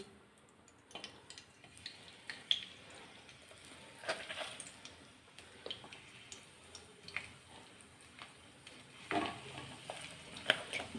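Ground dates cook in ghee in a pan, a faint low sizzle under irregular scrapes and taps of a spoon being worked through the thick mixture.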